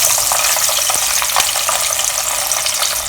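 Pork pieces double frying in hot oil, a steady, loud, dense sizzle and crackle with occasional sharper pops, continuous throughout without voices.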